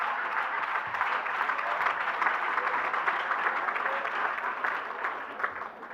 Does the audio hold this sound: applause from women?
yes